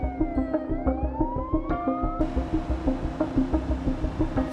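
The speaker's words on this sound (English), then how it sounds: "The ambulance sirens wailed as they sped toward the hospital." An ambulance siren in the BeamNG driving game wails in rising and falling sweeps over a steady engine throb. It sounds close and loud and continues without pause.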